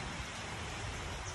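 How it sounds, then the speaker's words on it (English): Steady rain falls during a July flood, a constant even hiss of drops on surfaces with no pauses, with no talk. "So the rain is back."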